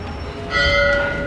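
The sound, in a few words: temple bells ringing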